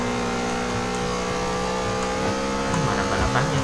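Honda VTEC engine of a car in the Test Drive Unlimited Platinum racing game, a steady droning tone that holds at a high pitch and swells a little louder near the end, with no voices.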